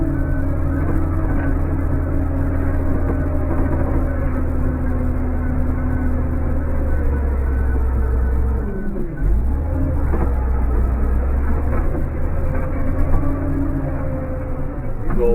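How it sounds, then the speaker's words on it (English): An old Champion road grader pushes snow with a steady, low engine rumble that stays loud throughout. A voice talks over it. "These old graders can push the snow"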